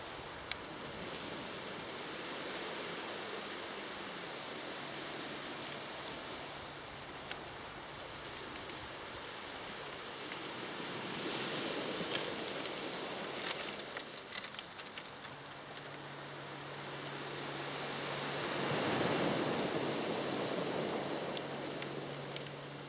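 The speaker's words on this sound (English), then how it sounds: "Now on the shingle beach at Bossington, looking towards Porlock and the Weir." Waves wash steadily over the shingle beach at Bossington, a broad, continuous surf roar that swells and recedes with the breakers, heard alone without talk.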